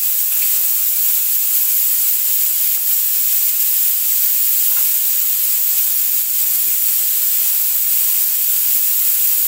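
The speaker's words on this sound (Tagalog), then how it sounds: "Pag wala ng singaw ito, wala na yung usok, yung pressure niya, pwede na bago natin siya buksan." Steady, loud hiss of steam venting from a pressure cooker that holds crispy pata (pork leg), a continuous broadband rush with no pauses and no talking.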